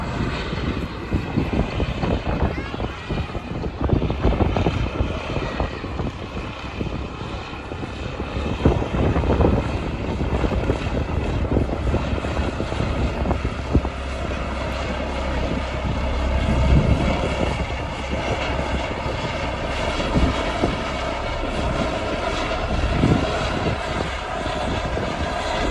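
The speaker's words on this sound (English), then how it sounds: "you would have just seen a video of the helicopter landing" An air ambulance helicopter landing at a grasstrack racing meeting, a loud continuous engine and rotor roar that stays steady and fairly close for the whole stretch, with no voices.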